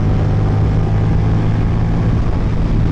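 A new Ducati Diavel V4 motorcycle engine runs loud and close with a constant low, throbbing drone and no change in revs over a few seconds, no voices.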